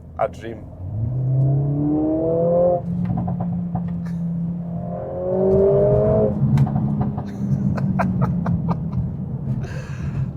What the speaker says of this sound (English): a 2 litre all-wheel drive, 4-cylinder, turbocharged, hot hatchback is just, honestly, a dream.